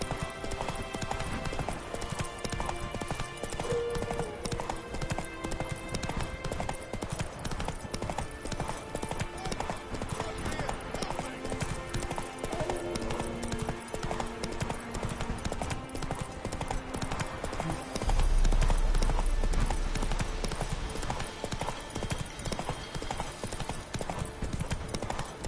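Roach, Geralt's horse in The Witcher video game, gallops in a continuous, rapid clip-clop of hooves under a busy game soundscape with music, and a brief voice cuts in near the end.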